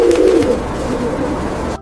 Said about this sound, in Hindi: पिजन को हिंदी में कबूतर कहते हैं। कबूतर घरों के आसपास रहता है।